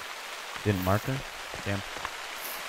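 Steady rain patters in the hunting game TheHunter: Call of the Wild, a soft even hiss running throughout beneath a man's brief spoken remarks.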